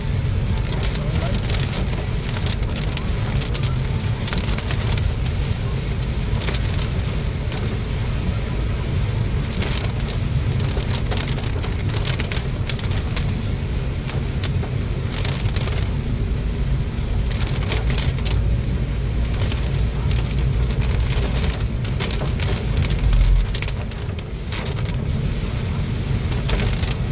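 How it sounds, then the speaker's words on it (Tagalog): Heavy rain on the road back to Cavite, a dense, steady roar of falling water that continues without a break for nearly half a minute. "Naabot na ng malakas na ulan."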